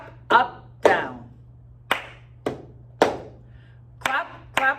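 Close, dry hand claps mixed with sharp cup taps on a hard surface, spaced in an even repeating pattern of pairs and single hits, with a low steady hum underneath.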